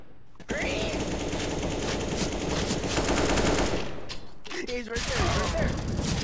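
Video game gunfire rattles in continuous rapid automatic bursts, loud and steady for several seconds, breaking briefly near the end, while players talk excitedly over it.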